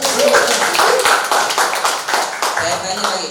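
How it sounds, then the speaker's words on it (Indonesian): A short burst of audience applause at a Golkar party national witness board gathering in Yogyakarta, scattered hand claps under a voice talking over them. "Oke, Tepuk tangan dulu."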